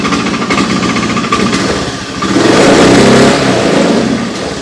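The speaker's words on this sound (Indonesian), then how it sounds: "kadang di gas blepek kadang tidak, kadang blepek kadang tidak ya" A Honda Beat FI scooter engine revs loudly and close up, rising to a stronger swell midway; the throttle response stutters and sputters unevenly, with no talk over it.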